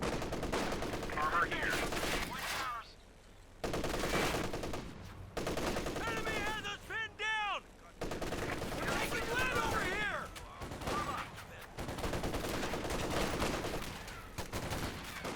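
Gunfire from skirmishes on the flanks in a Company of Heroes 2 1v1 match, with bursts of shots and explosions mixed with game sounds and unit voice chatter, fairly faint.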